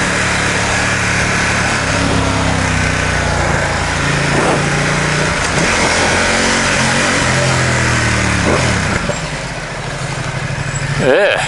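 A Ducati XDiavel S motorcycle, ridden on the road, holds a loud, steady engine drone mixed with rushing wind from up close. The pitch shifts gently throughout and swells briefly near the end.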